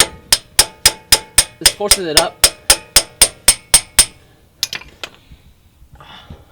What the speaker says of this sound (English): Take a hammer and you hit it.